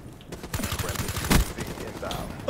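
Rapid automatic gunfire in the Black Ops 3 video game, a fast stuttering burst of shots with one louder bang, close and busy, with a voice talking briefly over it.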